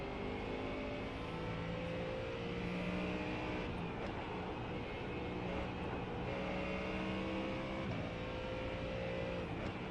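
A Ford Mustang GT3 race car engine in iRacing at Mugello, held at a steady drone on a gentle out lap on cold tires, with rising and falling pitch as it shifts and accelerates, loud and close throughout.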